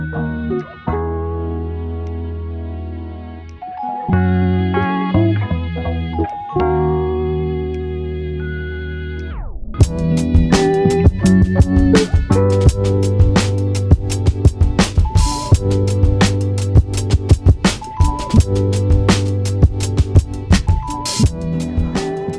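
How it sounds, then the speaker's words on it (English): A loud horn blares in sustained chords, then a passing train rumbles and clatters with rapid, rhythmic clacking close by for a long stretch. "Apologies for the train noise."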